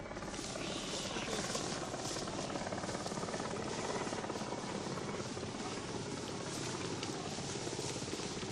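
Military helicopter carrying troops during the Rhodesian bush war, a loud, continuous rotor thump and engine whine filling the air close by, with speech faintly audible underneath.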